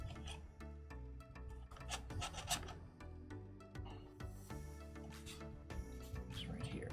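A knife blade is rubbed and rasped along a sharpener to set a 25-degree bevel, a steady close scraping that continues through the clip, with occasional background tones.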